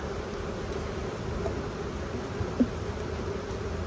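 Honey bees in a busy queenless hive, storing honey, make a continuous close droning hum with no pauses and no talking.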